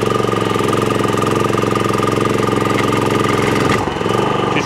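A petrol lawn mower from a job lot, with a suspected rotor clutch fault and heavy smoke, runs roughly at a steady, loud, close drone and then briefly stumbles near the end.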